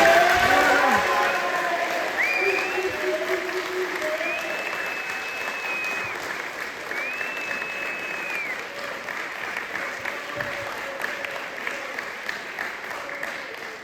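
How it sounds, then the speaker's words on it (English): A crowd at a documentary film event applauds and cheers, with sustained clapping and scattered whoops and whistles. Loud at the start, it slowly fades over roughly fourteen seconds. "So if we can have a round of applause."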